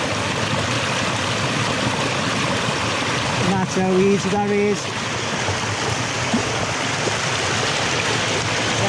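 Water rushes continuously and loudly down a fast-flowing river in the Northumberland and Scottish Borders countryside, a dense, steady roar that fills the whole stretch while someone speaks briefly over it partway through.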